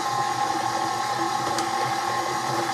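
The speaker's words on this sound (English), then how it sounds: "I'm going to turn on the mixer" Electric mixer beating walnut pound cake batter with finely ground nuts, a steady close motor hum with even whirring and faint rattling, no voices.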